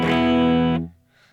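An electric guitar runs through a Tone King amp with distortion on, giving one sustained, heavily saturated chord that rings loud and then cuts off sharply.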